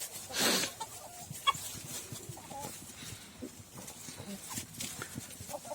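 Village chickens and a rooster cluck steadily nearby, with one loud squawking burst early on and scattered softer clucks afterward.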